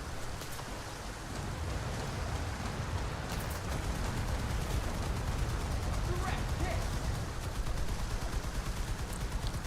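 A 37mm gun fires from a boat in a naval video game, a steady rattling stream of rapid shots under a constant wash of spray-like noise, with voices talking over it.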